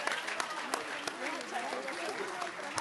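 A crowd applauds a state councillor and mayor of Sveta Trojica v Slovenskih Goricah at an outdoor NSi party family day in Ribnica. The clapping is steady and dense, with a voice heard over it.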